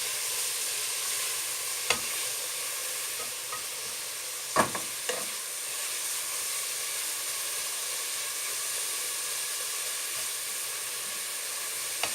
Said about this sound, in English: So that's all getting fried in the olive oil.